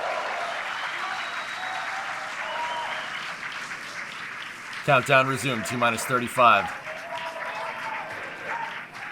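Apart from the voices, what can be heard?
crowd cheering during Starship launch countdown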